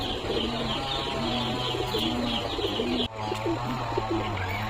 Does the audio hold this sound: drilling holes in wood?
no